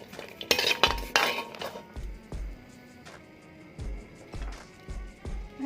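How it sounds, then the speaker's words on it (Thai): Dry-roasting shallots, garlic and chillies in a pan for Thai tamarind chilli paste, with a utensil scraping and clinking against the pan in repeated strokes, some sharp knocks standing out, close and fairly loud, with no talk. "เราคั่วหอมกับกระเทียมให้ ใกล้สุกนะ แล้วค่อยเอาพริกใส่ลงไปคั่วตาม"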